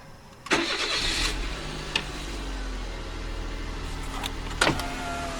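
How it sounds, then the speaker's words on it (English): An electric window on a 1985 Nissan Bluebird whirs up at close range, its motor humming steadily inside the car between a couple of sharp clicks, with no talking. "Do the window up. Electric windows, luxury, man."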